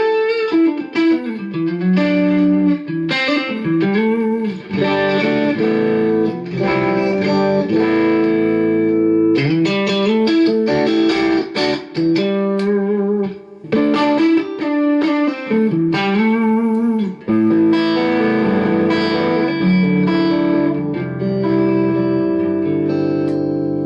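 Overdriven electric guitar through a Line 6 DT50 amp plays chords and riffs with a gritty, saturated tone and some reverb, loud and continuous with no talking.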